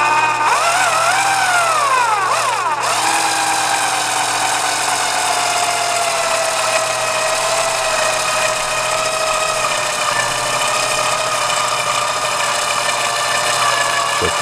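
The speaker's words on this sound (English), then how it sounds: "I can just go ahead and get my drill bit and run it right through here." A power drill whines steadily at high speed as its bit runs through a plastic case, its pitch rising at the start then settling into a continuous loud grinding drone.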